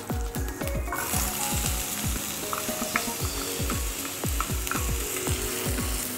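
Green chilies frying in a pan with cumin, a steady loud sizzle broken by repeated scraping, clicking strokes of a spatula against the pan, with no talking.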